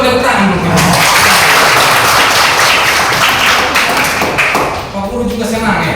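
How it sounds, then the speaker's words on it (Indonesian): Students clapping in a classroom, a dense burst of hand claps close by that swells and then thins out, with voices talking over it near the end. "pintar-pintar kalian coba tepuk tangan dulu"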